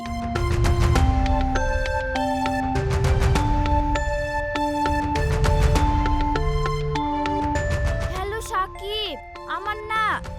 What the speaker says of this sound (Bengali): দেখি সাকিবকে ফোন করি